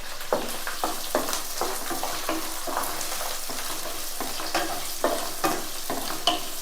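Sliced medium onion and curry leaves sautéing in hot oil, a steady close sizzle broken by regular scraping stirs of a spatula through the pan, with no talking.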